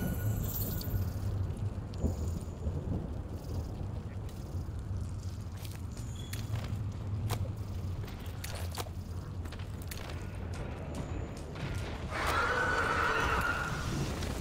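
A Kirin monster in Monster Hunter World lets out a neigh-like whinny near the end, rising over a steady bed of game ambience and low rumbling music.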